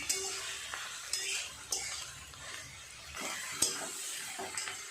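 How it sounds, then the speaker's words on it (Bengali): Vegetables coated in spices are stirred in a pan. A spoon scrapes and clinks against the metal in irregular strokes over a soft, low sizzle. "খুব ভালো করে সমস্ত সবজির সাথে মশলাটা একটু এইভাবে নেড়ে চেড়ে কষিয়ে নিতে হবে।"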